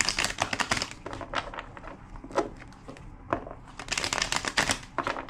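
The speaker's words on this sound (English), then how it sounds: "Two more shuffles." A deck of cards riffled and shuffled up close, bursts of rapid flapping clicks separated by brief pauses.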